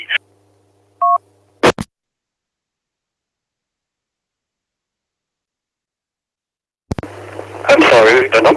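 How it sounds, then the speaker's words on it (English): Telephone keypad tones over a radio net: a short DTMF burst near the start and a couple of brief tones, then long silence before a loud recorded intercept message plays at the end. "the number you dialed is no longer in service at this time"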